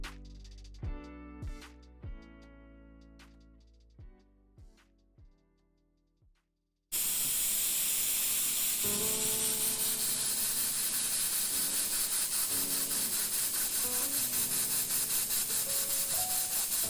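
A clogged spray gun sprays water in a faint, uneven pattern. A few sparse ringing notes die away, then a loud, steady hiss of spray starts suddenly and runs without a break to the end.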